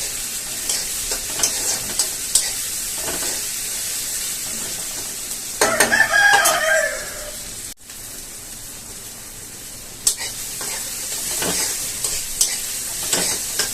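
Tomatoes and onions sautéing with salt in a pan for chicken sukka, a sustained close sizzle with repeated spatula stirring, a brief squeaky scrape midway and a short dropout.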